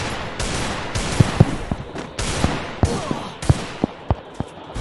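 Rapid gunfire from a Desert Eagle in the Free Fire video game, with bursts of sharp shots over a dense, steady game soundscape, loud and continuous for about five seconds.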